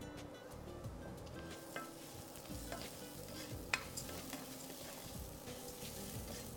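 Rice is stirred in a pot with oil, and a faint, steady sizzle runs throughout, broken by soft scraping stir strokes and an occasional light clink.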